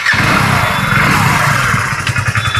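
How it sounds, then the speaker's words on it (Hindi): A Hero Splendor BS6 motorcycle engine catches and runs, a loud, continuous mid-pitched putter with rapid firing pulses growing more distinct toward the end, close by with no voices. "बाइक को हम स्टार्ट कर पाएंगे"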